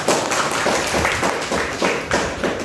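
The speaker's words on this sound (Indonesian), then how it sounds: "Tepuk tangan dulu untuk mereka." Clapping in a classroom or lecture session for a student discussion group, a handful of nearby hands producing loud, uneven bursts of claps with short dips between them.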